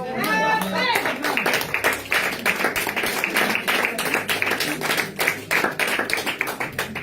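Congregation at a French-speaking church service clapping rhythmically in acclaim of Jesus, steady dense claps throughout alongside singing or music.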